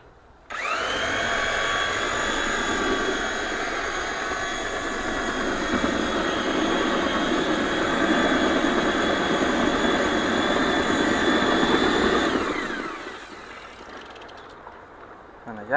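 Steady, loud mechanical whine and drone of a machine mixing cement, gypsum and foam mortar, running continuously for about twelve seconds before winding down into a quieter hum.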